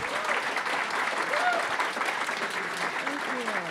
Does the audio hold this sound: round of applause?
yes